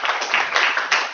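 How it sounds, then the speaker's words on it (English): Audience applause at a live lifestyle medicine forum in London, a brief burst of dense clapping with slight swells, close and fairly loud. "give him a warm round of applause"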